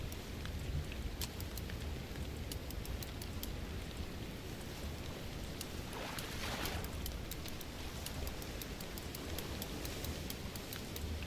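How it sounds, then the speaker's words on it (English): Rain beginning to fall in the video game Fishing Planet at a lake in Norway, a steady broadband hiss of rainfall with scattered drop ticks, continuous and moderately loud, with no talk. "Now it's starting to rain."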